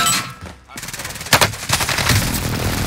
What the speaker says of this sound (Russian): Авиаудар, да ладно.